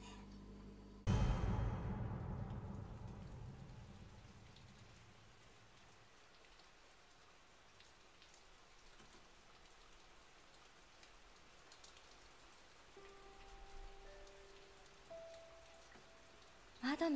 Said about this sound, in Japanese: 窓の外は雨なんです。